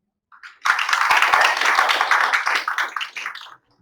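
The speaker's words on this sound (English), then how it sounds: "So a big round of applause, please, for them." An audience at a talk on AI and the future of medicine claps for the event's sponsors, a dense burst of applause that swells quickly, holds steady, then thins into scattered claps before stopping.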